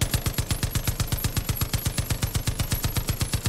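Sustained automatic gunfire in Far Cry 5 during a zombie DLC mode, a fast, steady stream of loud rounds firing without break for several seconds.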